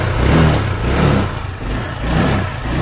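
A Honda Click scooter engine, troubleshot for a fake spark plug and a check engine fault, runs loud and close with rising and falling revs in a repeating throttle pattern.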